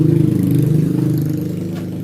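A Honda Beat FI motorcycle, which has trouble starting and tends to stall, idles close by with a steady, throbbing low engine note.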